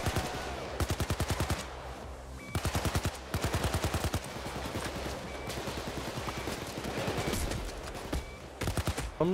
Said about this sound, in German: Hallo, wer schießt mir in den Rücken?